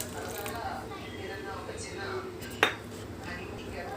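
Diluted custard powder going into a pot of milk on the stove, stirred with a metal spoon: low steady stirring with one sharp clink of metal against the pot midway, fairly quiet throughout.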